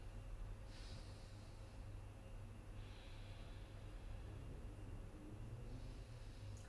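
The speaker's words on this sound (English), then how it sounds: "Breathing again." Someone seated in a chair breathes slowly and deeply, with three soft, airy inhales spaced a couple of seconds apart over a faint steady background hiss.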